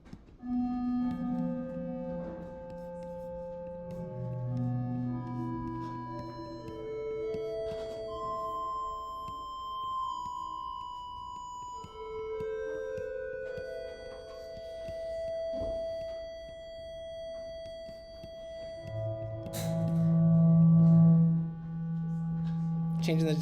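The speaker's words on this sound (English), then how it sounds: "There it is. There's our reverb." Sustained synthesized tones in Ableton wash out under a reverb effect, overlapping sine-like notes at shifting pitches with long, smeared decays, moderately loud and steady, ending in a brighter, louder swell.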